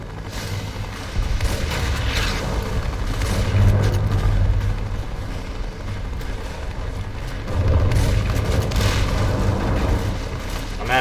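Grenade explosions boom through a chaotic firefight in the video game Fallout: New Vegas, heavy low rumbling blasts swelling around four and eight seconds over continuous gunfire and battle noise, loud and dense throughout.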